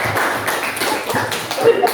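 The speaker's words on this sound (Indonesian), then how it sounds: "Beri tepuk tangan untuk kelompok Ambarawa." A class group in a classroom lesson gets a short burst of applause, a quick run of sharp, closely spaced claps lasting under two seconds.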